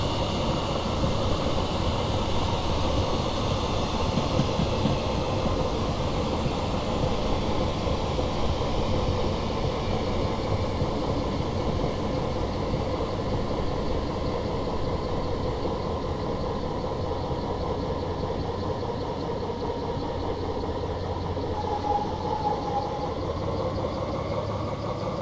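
A Class 175 diesel train in a driving simulator slows on its approach into Bristol Parkway, giving a steady, continuous engine and rail rumble that stays constant throughout with no speech.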